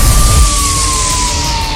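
A police car siren's long steady wail slowly falls in pitch, loud and close, with a low rumble underneath.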